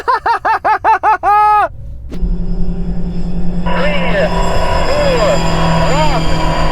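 A countdown of short electronic beeps, then an Audi RS e-tron GT and an RSQ e-tron launch in a drag race, giving a sustained electric whine and road rumble with rising tones layered on top.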